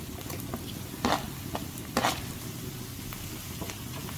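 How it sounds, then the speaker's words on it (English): Ginger, garlic and green chili paste sautéing in oil for a black chickpea curry, a low steady sizzle with a few sharp spatula clicks and scrapes against the pot, fairly quiet and close. "And saute it."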